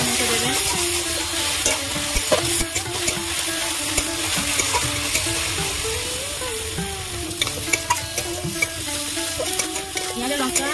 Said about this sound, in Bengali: লবণ দিয়ে আমি ভাজা ভাজা করে নিয়েছি।